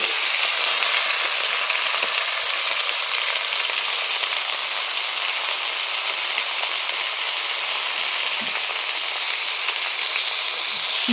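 Cut vegetables frying with ginger in a pan for a Bengali vegetarian dish, a loud, continuous hissing sizzle that holds steady throughout with no talking.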